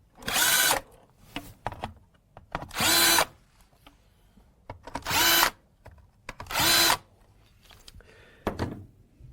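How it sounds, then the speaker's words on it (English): Four loud bursts of a power drill boring holes with a center drill bit, each lasting about a second, separated by short pauses and softer mechanical clicks. "drill the corresponding holes by using"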